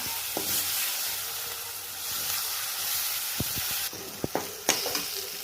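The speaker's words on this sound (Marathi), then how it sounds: "हे आता वांगे टाकून घ्यायचे आहेत आपल्याला चांगले असे स्मॅश केलेले मिक्स करून घ्यायचं" Mashed brinjal being stirred and mixed in a hot pan for bharit: a steady sizzle and hiss with a few soft scraping knocks of the spoon toward the end.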